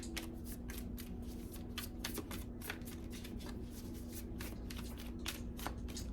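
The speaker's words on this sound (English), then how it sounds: "I wish I could put something on these cards so they don't stick together so much." A tarot deck is shuffled over and over at close range, giving steady crisp riffling bursts over a low constant hum, with no talking.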